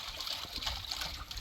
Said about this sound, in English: we wash them off in some lime water, as you see